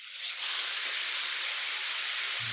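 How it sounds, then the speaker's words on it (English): Beef and sauce sizzle in a hot iron skillet with a steady, loud, broadband hiss that holds without a break from start to finish. "So we're going to sear it."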